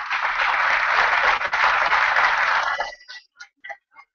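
Loud, dense applause fills a press-conference room as Agustín Jalegui is welcomed, cut off sharply near the end and followed by a few scattered, fading claps.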